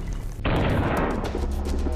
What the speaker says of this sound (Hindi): एक बार फिर जंग के मैदान में टैंक और तोपें आग उगल रही हैं